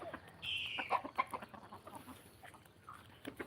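Chickens cluck in a garden in short, scattered bursts, with one brief higher call early on, close by and moderately loud.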